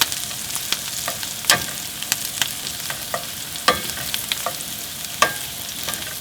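Garlic scapes stir-fry in a hot pan for Korean maneuljjong-bokkeum, with a constant close sizzle and crackle broken by sharp spatula clacks every half second or so.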